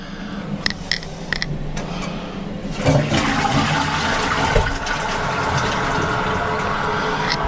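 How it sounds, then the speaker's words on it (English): A toilet short flush, just after its cable mechanism was reassembled: a few clicks and clunks of the handle, then a loud, close whoosh of rushing water that settles into a steady refill hiss. "Yeah, I just wanted to make sure the flush flushed because I just put the cable together."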